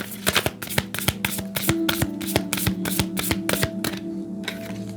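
A deck of oracle cards shuffled by hand, a fast run of crisp, evenly spaced riffling clicks that stops near the end.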